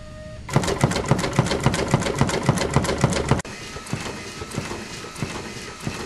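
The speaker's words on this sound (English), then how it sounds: "Here's a good example of how quickly the system can tamp." Foxjet LS4600 label applicator's pneumatic cylinder tamping rapidly in a fast, steady run of sharp mechanical clacks, loud and close, then continuing a little softer and less distinct after a brief cut.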